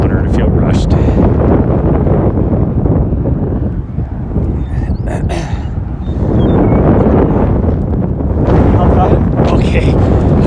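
Strong wind buffets the microphone outdoors on a morning run between snow squalls, a loud continuous rumbling roar that dips briefly before surging back, with speech mixed in.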